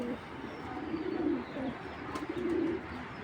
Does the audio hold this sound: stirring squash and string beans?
no